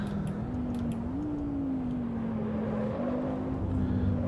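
A steady engine drone with a sustained tone that rises and settles as it revs, accompanied by faint ticking clicks; a McLaren MP4-12C at Spa in the racing game Assetto Corsa.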